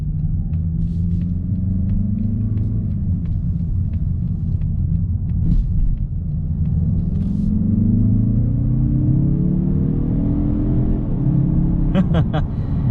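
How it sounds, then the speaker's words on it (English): Engine noise from a 2021 Mazda3 Turbo Premium Plus under hard acceleration in sport mode with manual shifting, a loud steady rumble rising in pitch through the gears inside the cabin, with a brief high click near the end. "Gonna put it in sport mode, gonna put it in manual mode, and see how the transmission feels in somewhat of a hard acceleration."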